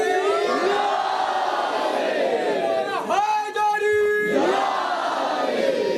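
Crowd at a religious gathering answering the Nara-e-Haidari slogan: a large mass of voices shouting in unison in drawn-out chant-like cries, loud and sustained, with a brief dip before the shout swells again.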